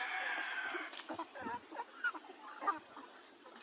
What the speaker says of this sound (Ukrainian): Ось так вже виросли курчатка.